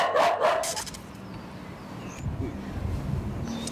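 A dog barking in Brazil, a few sharp, loud yaps at the start, then a quieter stretch with faint whimpering and background voices.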